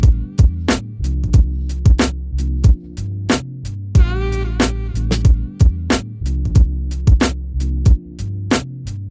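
A loud sampler beat built on a sax sample, kept dry and off the effect buses, with punchy kicks and sharp snare hits pounding in a steady groove while a brief horn phrase rises midway; no talking.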